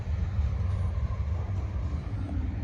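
Rear of a short Norfolk Southern freight, NS 154, rolling past on the Charlotte District, a steady loud low rumble of rail cars continuing without break, no voices.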